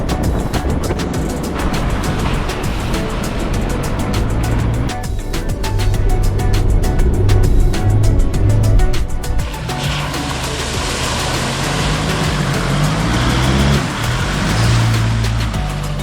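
A 4WD on soft-sand island tracks with tyres at 18 PSI drives along, its engine a constant loud rumble inside the cabin with bumps and wind rush, no talking.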